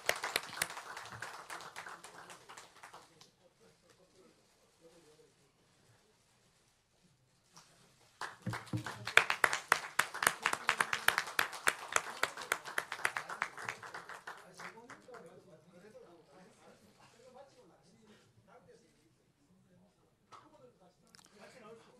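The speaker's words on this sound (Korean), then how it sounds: "모두 큰 박수 부탁드립니다." Audience at a party leadership election event clapping in a distinct burst of applause that swells and then fades, with quieter talk and handling sounds before and after.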